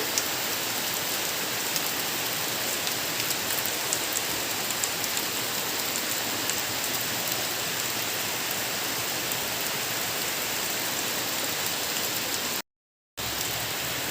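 Heavy rain pours steadily onto a farm where water has pooled, a loud, dense, continuous wash of drops with a brief cut near the end and no voices.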